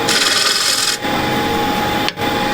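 KS bowl gouge cutting into apple wood on a lathe, loud close scraping rasps in two long passes separated by short pauses.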